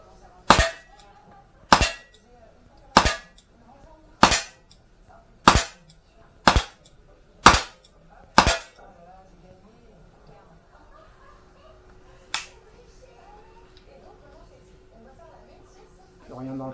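A 1996 Beretta 92 FS pistol fires a second magazine at a target, eight loud, sharp shots at a steady pace of about one per second, followed by a long pause, then one more isolated report.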